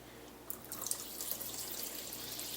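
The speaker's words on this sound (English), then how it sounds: "So it takes maybe 3 or 4 rounds of this rinsing before it starts coming out clear." Rice is rinsed with running water in a kitchen for a green pepper, rice and turkey casserole: a steady splash and trickle of tap water, close and continuous, with no voices.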